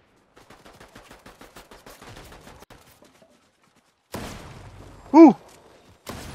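Gunfire in the video game Fortnite: a quick regular series of faint distant shots, then a pause, a louder nearby crack and a rising whoosh-like burst, with no talk over it.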